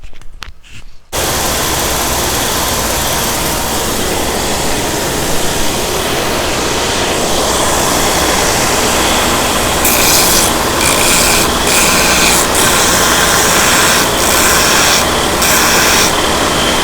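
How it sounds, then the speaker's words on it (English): A dust collector roars loud and steady while a wooden spin top handle is sanded, with a continuous close rushing hiss and a scratchy sanding edge joining in partway through. "then I'll get the dust collectors on and we'll sand this out"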